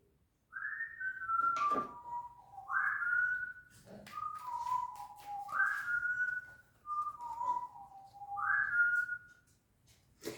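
A pet bird whistles a short melodic tune, repeating the same rising-then-falling phrase about four times in a row, close and clear with no talking.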